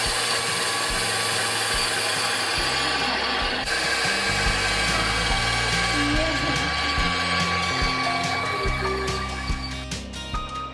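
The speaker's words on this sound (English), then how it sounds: "you can easily use a little handheld egg beater" Hand-cranked handheld egg beater whipping oat pancake batter, a steady close whirring with a ratcheting, clicking gear texture running continuously without pause.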